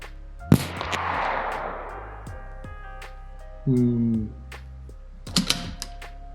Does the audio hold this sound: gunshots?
yes